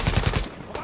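A quick rattling burst of video game gunfire, several rapid shots in under half a second, fairly loud and close, followed by a short lull.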